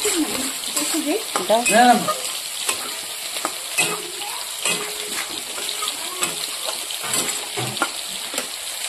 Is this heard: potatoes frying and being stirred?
yes